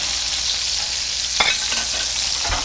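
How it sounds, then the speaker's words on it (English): Food sautéing in a hot pan gives a steady close sizzle, with a few brief scrapes and clinks of stirring partway through and no talking. "while you're sauteing that"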